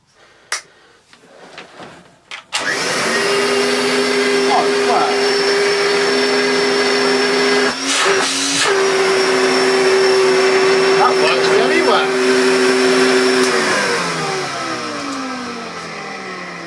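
A Hoover Constellation vacuum cleaner, still unrefurbished, starts after a few faint clicks and runs with a loud, steady motor whine and hum that dips briefly once before winding down near the end.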